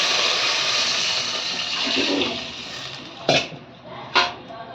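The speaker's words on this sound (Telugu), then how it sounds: "3 గ్లాసులకి 4 గ్లాసుల నీళ్ళు పోసినానండి" Water gushes steadily into a cooking pot for rice with a broad, hissing rush, then tapers off as a couple of metallic clinks ring out near the end.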